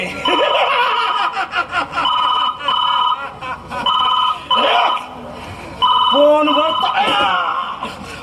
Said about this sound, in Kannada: ಫೋನ್ ಬರ್ತಾ ಇದೆ ನೋಡಿ.